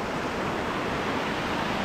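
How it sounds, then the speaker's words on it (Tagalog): Water rushing continuously at Gabur Gabur Falls in Peñablanca, Cagayan, a steady, loud, broadband roar with no breaks and no voices. "Walang katapusan na umaagos, na hindi na maubos-ubos."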